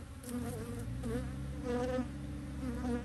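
Honeybees swarm and buzz steadily around an open beehive crowded with swarm cells, a dense, continuous insect hum close by with shifting pitch as individual bees pass near.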